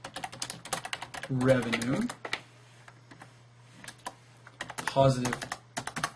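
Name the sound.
typing on a computer keyboard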